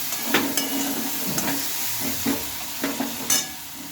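Masala frying in oil gets stirred in a pan, giving a steady close sizzle and hiss broken by several sharp spatula scrapes and taps, with no voices.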